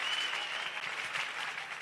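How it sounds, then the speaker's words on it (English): Faint, steady applause from an audience at a fintech conference session in Nigeria, even continuous clapping heard from a distance without speech. "give yourselves a round of applause for staying"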